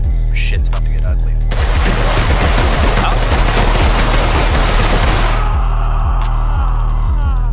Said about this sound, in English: Oh, there's two of them shooting at me.